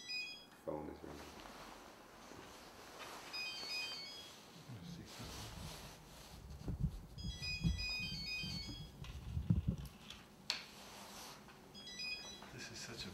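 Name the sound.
mobile phone ringtone ringing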